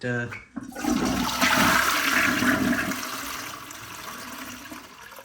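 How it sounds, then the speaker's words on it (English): A newly installed temporary toilet flushes loudly after a short pause, a rushing surge of water that swells then slowly tapers into a steady refill; a voice speaks briefly at the start. "Give the toilet a quick flush to make sure the flushes are working properly."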